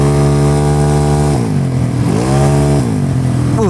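Yamaha Mio 300cc scooter-style motorcycle engine revving under throttle, a loud close steady drone that dips and climbs with each twist of the throttle, rising in pitch at the end.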